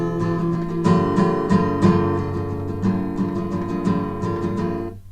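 Acoustic guitar with a capo strums chords in a steady, full-bodied rhythm of repeated down strokes, close and loud, ending with the last chord cut off; no voices.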